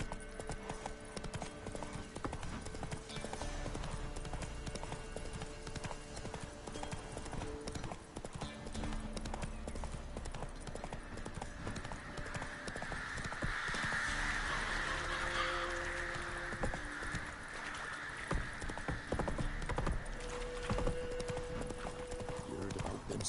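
Horse hooves clip-clop steadily throughout, the rhythmic footfalls of the horse Roach carrying on at moderate distance, with occasional faint voices and a brief whinny-like sound in the background.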